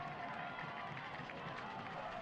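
A homecoming college football crowd at a Howard Payne versus Southwestern University game sends up a faint, steady roar of cheering and clapping for the Pirate defense, heard from a distance.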